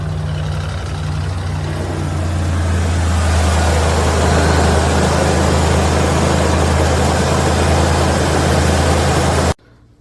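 A car engine idles steadily and loudly after being jump-started from a dead battery with a NEXPOW Q10S 1500A jump starter pack, a continuous rumble that grows fuller after a few seconds, then cuts off abruptly near the end.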